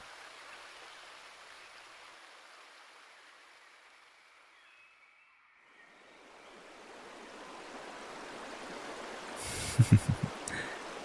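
Gentle flowing water forms a steady, soft stream-like wash throughout, dipping briefly mid-way before swelling back, with a few close splashy bursts near the end.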